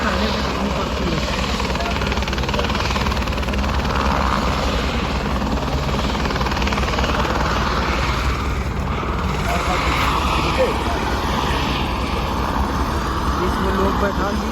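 A helicopter at Kedarnath, a steady loud rotor and engine roar filling the whole stretch, continuous and close, with people talking underneath.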